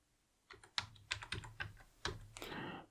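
Keys clatter on a computer keyboard as a short Linux server command is typed: a close, crisp burst of about a dozen keystrokes in an uneven rhythm, ending in a denser final flurry, with no talking.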